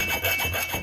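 A round hand file rasps back and forth in a square hole, making a close, continuous abrasive scraping with a steady stroke rhythm.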